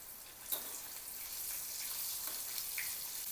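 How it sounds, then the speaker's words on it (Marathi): Sweet puran dhonde dumplings fry in ghee with a faint, steady high hiss and a couple of soft pops, heard quietly on their own without talk. "तुपामध्ये तळलेले आहेत धोंडे"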